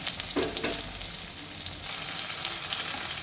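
Stuffed pointed gourds (potol) sizzle steadily in hot oil in a kadai, a dense, close frying hiss with a few soft stirring knocks early on and no talking.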